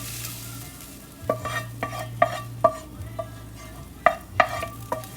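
Breakfast casserole ingredients dropped one after another into an oiled baking pan, making a string of sharp, close clinks and soft thuds at an uneven pace over a low background hum.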